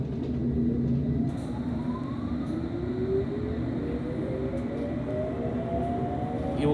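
A London Underground Metropolitan Line train runs along the track, a steady loud rumble with rising and falling motor whine tones and occasional faint clicks, heard from inside the carriage without talk.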